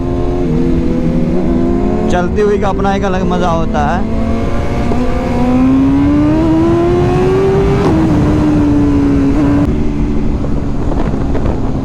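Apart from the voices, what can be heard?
superbike engine revving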